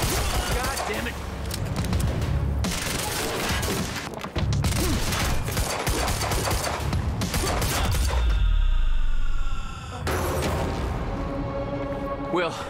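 Dense gunfire from Quantum Break rattles loudly in rapid sustained volleys over several seconds. Shouted voices overlap the shooting, and a brief lull comes before the firing resumes.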